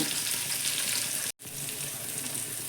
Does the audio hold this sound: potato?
yes